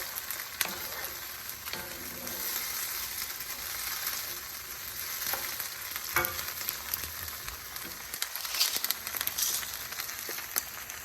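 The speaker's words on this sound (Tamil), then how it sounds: "இந்த மாதிரி கொஞ்சம் ஸ்டவ்வில் கொஞ்சம் ஹையில் வச்சுட்டு கொஞ்சம் இப்படி வதக்கிறது." Green chillies sautéing on high heat in a pan for chilli thokku, a continuous close sizzle and crackle with occasional stirring scrapes and no talk.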